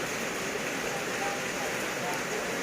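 Steady rain falling outdoors on a rainy morning at a rural Thai home, a continuous broadband hiss with no breaks, moderately loud and even throughout.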